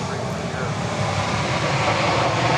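A plane arriving at Dallas Love Field gives off a loud, continuous, broadband engine roar that stays steady and close throughout.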